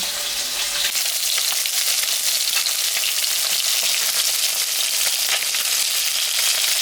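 Pieces of fish fry in hot oil in a home kitchen, a loud, steady sizzling hiss that runs evenly from start to finish with no talking.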